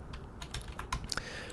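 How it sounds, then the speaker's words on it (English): Computer keyboard keys pressed a few times to move around in a 3D program, scattered soft clicks over a steady background hiss, no talking. "you use the WASD keys to move around"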